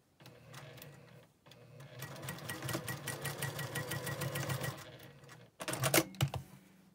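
A sewing machine stitching quilt block pieces for a Single Irish Chain block runs in a close, rapid mechanical chatter, in two main runs with brief pauses between them and a short final burst.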